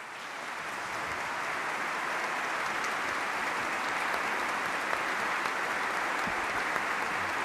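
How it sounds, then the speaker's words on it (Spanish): A congregation applauds warmly for a former bishop at a Tenerife diocesan ceremony, strong continuous clapping that builds quickly and holds steady throughout. "don Bernardo Álvarez, por quien pido un fuerte aplauso."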